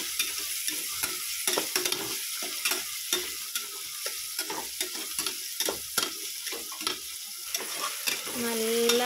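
Chopped onions fry in hot oil for ghee rice, a constant sizzle broken by a quick, regular run of spoon scrapes and stirs close by, with no one speaking.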